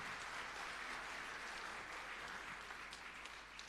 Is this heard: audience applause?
yes